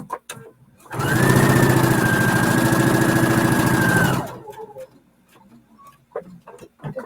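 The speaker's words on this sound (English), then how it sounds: "fix it, and start sewing" A sewing machine stitches fabric in one continuous, loud run of rapid mechanical whirring and needle rattle lasting about three seconds, then stops, leaving faint handling clicks and small noises.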